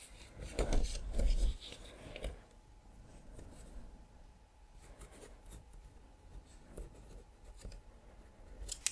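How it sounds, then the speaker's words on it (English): A pen scratches and scribbles across paper up close in a quiet room, with a louder rustle early on followed by soft, irregular strokes of writing. "Let me write this one down real quick."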